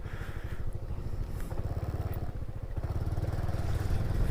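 Motorcycle engine running as it rides along near a lone house surrounded by water, a steady rough mid-pitched drone with rapid pulsing, close and continuous, no talk.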